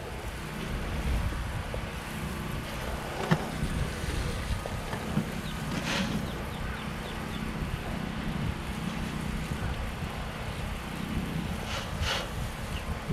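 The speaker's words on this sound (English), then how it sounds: "It's windy. We ain't going this way." Strong wind buffets and roars steadily, broad and continuous, with faint splashing and creaks of a boat underneath.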